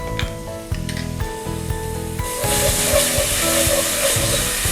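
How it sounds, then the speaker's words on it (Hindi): Garlic paste hitting hot oil with crackled cumin seeds and cloves in a pan, a loud close sizzle that swells into a steady hiss while stirring scrapes and clanks sound throughout. "अब हम डालेंगे ये लहसुन का पेस्ट और इसको थोड़ा भूनेंगे"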